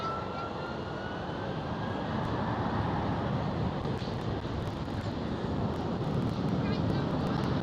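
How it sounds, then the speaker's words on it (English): A Delta Airlines Airbus A330 pushes back at Schiphol Airport, Amsterdam, with a steady, broad jet engine roar and wind buffeting the microphone, while a voice talks faintly over it. "And Delta Airlines pushing back right now from the Delta."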